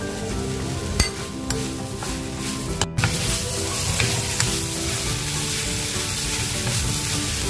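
Grated coconut fries in a pan for a mackerel curry, a dense, close sizzle with stirring scrapes and a few sharp clinks of a spoon against the pan, with no talking.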